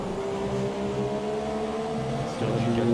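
Formula 1 race cars at the 2017 Malaysian Grand Prix battle for fifth place, a steady high engine whine holding loud and close before a second car's note swells in near the end.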